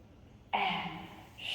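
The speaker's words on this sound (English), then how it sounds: "Inhale, now exhale." A sharp breath during a Pilates ring workout, likely a forceful exhale: a sudden broadband burst of air that stays steady for about a second, close and fairly loud, with no talking.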